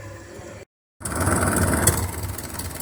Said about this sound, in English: There's a big old tractor over there, a Ford 9600.